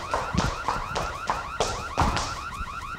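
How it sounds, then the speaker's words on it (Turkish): Fire alarm ringing inside a house, a loud electronic warbling tone repeating in rapid sweeping pulses, with several heavier thumps underneath, all continuous through the short span. "Yangın alarmı o."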